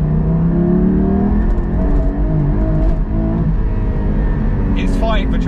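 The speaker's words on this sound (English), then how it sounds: "It's fighting for traction with these Cup 2s." Porsche 718 Cayman GT4 engine revs hard and loud on Cup 2 tyres over an icy road, a rising then wavering drone of the car struggling for traction, with a person talking over it.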